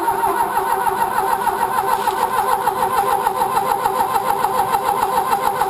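Propane engine on a Pelsue manhole generator and air compressor cranking over to start, a steady close mechanical churn with a rapid rhythmic pulse running evenly throughout, loud and alone.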